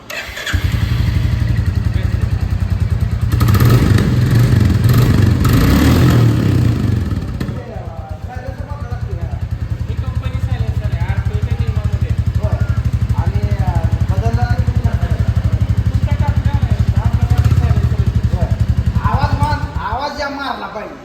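A black Royal Enfield Bullet motorcycle engine runs loud and close with a thumping idle, rising in a rev near the start, while people talk over it.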